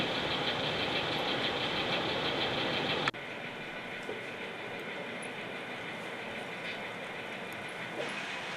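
Rainier Great Western Railroad train running toward Maple Valley, a steady loud rumble of engine and wheels that drops abruptly to a quieter, even rolling drone partway through.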